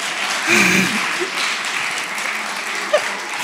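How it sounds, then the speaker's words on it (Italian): Short burst of audience applause at a comedy show, fairly loud and brief, with a voice briefly audible near the start and a small sharp knock near the end. "fatemi un applauso che ho ragione"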